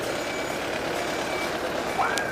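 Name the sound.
vehicle reversing with reversing beeps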